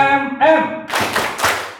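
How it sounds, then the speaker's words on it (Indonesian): A school audience in a hall applauds. A voice speaks first, then a short burst of close, loud clapping follows in a few rhythmic pulses. "beri aplaus untuk kita semuanya Bapak Ibu"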